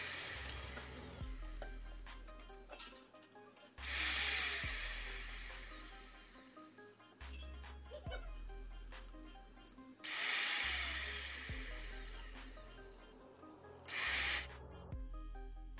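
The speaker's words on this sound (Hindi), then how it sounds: "अब मैं ड्रिल मशीन से फटाफट से यहाँ पे होल कर लेता हूँ।" A homemade electric drill machine boring holes, whining up in several loud bursts of a few seconds each, separated by quieter stretches of rattling and handling noise nearby.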